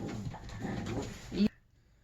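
A dog whimpering indoors, a few soft whiny cries in a short run ending abruptly, faint and close.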